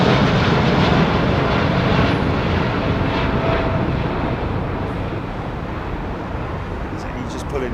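Boeing 787 Dreamliner at London Heathrow Airport, its jet engines a broad, steady roar that slowly fades, heard over wind buffeting and brief voices.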